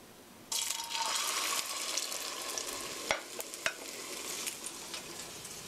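Beaten egg and cabbage mixture hits a hot pan for an omelette with a soft rushing sizzle, followed by scraping stirs and a few sharp clinks of a utensil against the pan, close and continuous.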